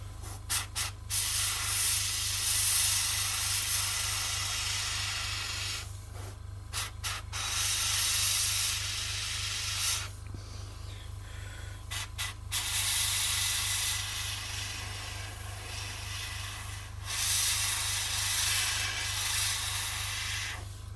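An airbrush sprays acrylic paint onto a Bandai A-wing model kit in long, close, breathy hissing bursts separated by brief clicks and pauses, over a steady low compressor hum.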